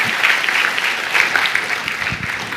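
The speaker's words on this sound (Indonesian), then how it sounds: "Beri tepuk tangan yang meriah buat Tuhan." A church congregation giving loud, steady applause: a thick wash of many hands clapping at once, sustained and fairly close for a couple of seconds without letup.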